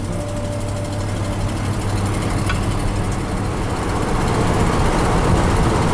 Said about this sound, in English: As soon as I hit the gas, it goes.